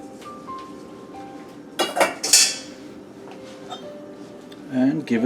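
Cooked pasta shells tipped into a pan of béchamel cheese sauce for mac and cheese, giving a few clinking, clattering bursts of pan and utensil contact over quiet kitchen background.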